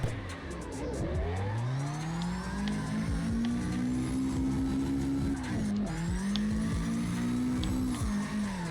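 Engine revs in an Xbox drifting racing game as the car slides and spins out, tires squealing in long rising and falling sweeps, loud and continuous, with a brief dip partway through.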